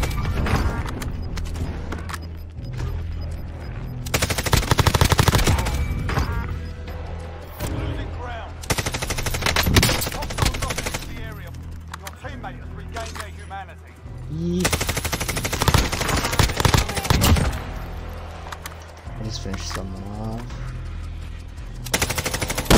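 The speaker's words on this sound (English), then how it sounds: "we just have to keep shooting at anyone we see at this point" Call of Duty: Warzone Halloween event gunfire, loud bursts of automatic weapon fire and scattered shots that come and go over about twenty seconds, with voices talking faintly between bursts.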